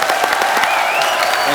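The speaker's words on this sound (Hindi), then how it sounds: "जोरदार तालियां" Studio audience at a Hindi comedy talk show bursts into brisk clapping, dense and energetic across the short stretch, with a voice speaking over it.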